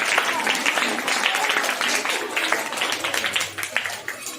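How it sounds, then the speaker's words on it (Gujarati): Schoolchildren and audience at a primary school fancy-dress event applaud together, a dense crowd of hand claps running steadily throughout with some voices mixed in. "સરસ તાળી વગાડો ભાઈ રમકડા માટે"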